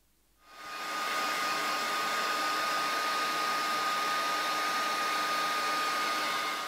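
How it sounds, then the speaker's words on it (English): A hair dryer switches on and blows steadily, a loud constant whooshing roar that holds without a break. "Now I'm just going to dry that with a hairdryer before I apply the pigment."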